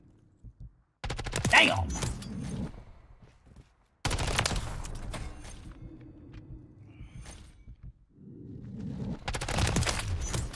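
Call of Duty gunfire in bursts of rapid automatic shots, loud and dense, with gaps between volleys while a player reacts aloud over the game sounds.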